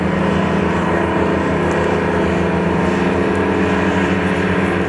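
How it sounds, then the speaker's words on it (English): Canadian military tracked vehicles, M113 type, run their engines at close range, a steady loud low drone with no audible track clatter, holding even for the whole stretch. "listen, you hear their engines, but you really don't hear their tracks"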